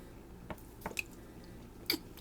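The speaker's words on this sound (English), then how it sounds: "And now we add some water." Water dripping and squishing into sand or mud in a small model river, a few soft, separate wet drips and splats at close range.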